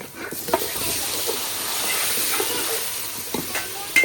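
Bombil fish drops into a hot pan of oil and chili, giving a steady, close hiss of frying with scattered clinks and scrapes over it.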